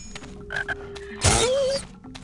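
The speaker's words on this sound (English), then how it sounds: "A frog." A frog in the fantasy video game Nox croaks in a loud, close, drawn-out call with a rising tone, set among short game sound effects and ambient tones.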